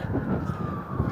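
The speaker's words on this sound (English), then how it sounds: "We couldn't have a stream without sirens, could we?" A single emergency vehicle siren wails steadily at a distance through downtown Toronto at night, its tone sustained over a low rumble of city traffic.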